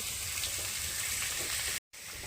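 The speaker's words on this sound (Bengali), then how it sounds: "কড়াতে সরষার তেল দিয়ে দিচ্ছি আলুগুলো ভেজে নেব আলুগুলো ভেজে নিচ্ছি" Potatoes fry in mustard oil in a wok. A soft, even sizzle crackles steadily and drops out for a moment near the end.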